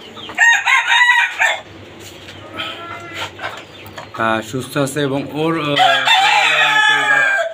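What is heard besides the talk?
red tiger rooster crowing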